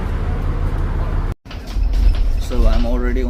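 Inside a bus there is a low engine rumble and rattle, broken by a brief silent gap, then a louder drone with a rising tonal whine near the end as voices talk.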